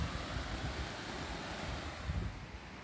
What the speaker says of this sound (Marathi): समोरच ही नदी आहे आपली, धबधबे खालून आलेली